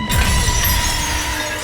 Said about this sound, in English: A clear crystalline ring like a wine glass breaking in the back of a cathedral.